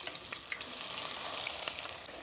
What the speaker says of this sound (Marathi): मस्त तेलामध्ये परतू। उभा चिरलेला कांदा